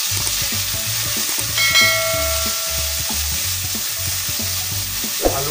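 Garlic and onion stirred in a frying pan for a chicken dish, a loud continuous sizzle with rhythmic scraping strokes and a brief clink near the end, over a quiet music bed.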